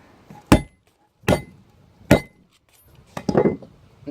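Four sharp knocks of a scooter deck hammering a bearing out, the first three evenly spaced and loud, the last a rougher cluster of blows.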